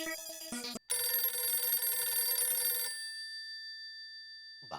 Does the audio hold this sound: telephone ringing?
yes